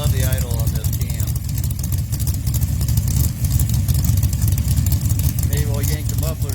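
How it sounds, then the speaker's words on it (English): A Pontiac 400 stroker engine with a hydraulic roller cam idles steadily, a deep continuous low rumble with a slightly choppy, lopey pulse that holds at an even level throughout. "I love the idle on this cam."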